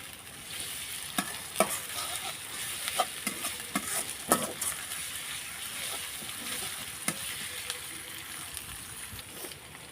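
Chopped onion with bay leaf and ginger-garlic paste fries in oil for beef khichuri, a quiet, steady sizzle under frequent scraping and clinking as a spoon stirs the pan, with no speech.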